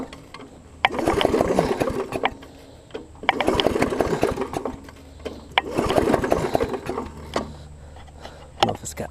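A small lawn mower engine with the choke off is pulled over repeatedly, giving three or four bursts of rough, sputtering cranking separated by short pauses, nearby and moderately loud.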